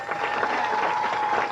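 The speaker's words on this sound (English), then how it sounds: "Give him a round of applause" A crowd at a house dance contest bursts into steady, dense applause, a brief burst of many hands clapping at moderate volume with no break.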